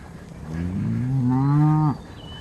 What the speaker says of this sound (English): Hey, baby cow.